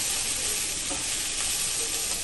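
Broccoli frying in a pan with white onion, a steady, loud, close sizzle and hiss that runs unbroken from start to finish, with no voices.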